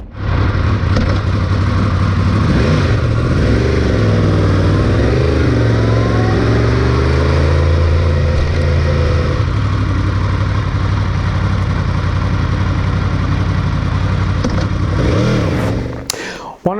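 A motorcycle engine revving steadily and loudly up close, with rising and falling pitch sweeps through the middle before a sudden cutoff at the end.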